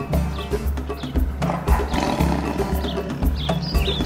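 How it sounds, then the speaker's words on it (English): A white tiger roars and growls in a series of deep, rough, rumbling bursts, loud and close, repeating with short pauses between them. "The white tiger."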